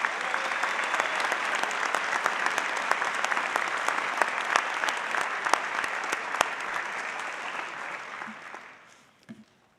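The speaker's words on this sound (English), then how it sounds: "deserve a huge round of applause." At a community scholarship ceremony, an audience gives sustained applause with distinct individual claps standing out, going on steadily for about eight seconds before fading away into near quiet.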